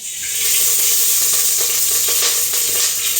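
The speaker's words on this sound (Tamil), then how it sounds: "எண்ணெய் ஊற்றிக்கலாம்" Oil hits a hot pan and immediately crackles into a loud, steady sizzle that keeps going close by, as oil is heated for tempering a village-style tamarind curry.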